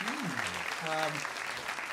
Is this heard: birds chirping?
no